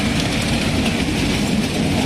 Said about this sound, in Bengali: আপনারা দেখছেন টয় ট্রেন